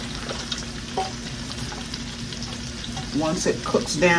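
Pork frying in bacon grease in a covered pot, a steady close crackling sizzle that swells louder with sharper pops near the end; no talking.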